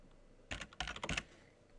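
Typing a username and password on a computer keyboard during a Check Point firewall login, a quick close burst of key clicks in two clusters with short gaps, no talking.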